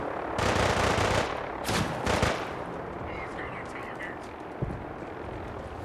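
Bursts of automatic gunfire and explosions from the video game Fallout 4, loud and dense for the first couple of seconds, then scattered shots and a thud further off.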